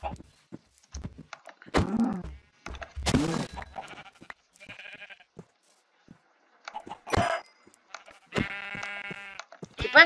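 Sheep bleating in the video game Minecraft, several short wavering bleats spaced through the stretch, mixed with other game sounds and brief clicks, fairly close and clear.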